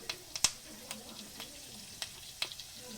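Chopped ginger and curry leaves dropped into hot oil with fried cashews for rava pongal, a quiet steady sizzle broken by sharp pops and crackles from the pan.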